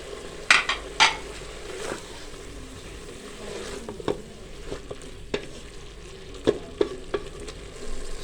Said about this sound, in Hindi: अब हम इसमें साबुत मसाले शामिल कर देंगे।